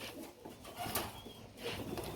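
Pigeons at a pigeon farm coo softly and close in a short stretch of low, murmuring calls over light background noise.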